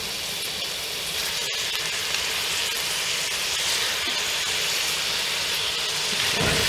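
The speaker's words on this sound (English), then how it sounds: "just to start off my browning process on the ground beef" About two pounds of coarse-ground beef sizzles as it browns in a pan, a loud, even, close hiss that continues without pause and without talk.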